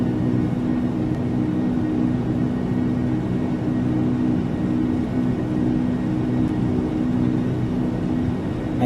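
Jet engines of a simulated L-1011 TriStar in Flight Simulator X roar steadily during the takeoff roll, a continuous loud rumble with a droning hum that holds level throughout, no voices heard.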